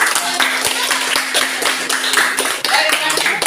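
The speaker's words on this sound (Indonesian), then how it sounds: "Tepuk tangan buat kelompok 1." A classroom of students claps for the group that won a quiz, producing dense, fast, close-up clapping that continues steadily with a brief higher hum underneath.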